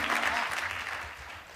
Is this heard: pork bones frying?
no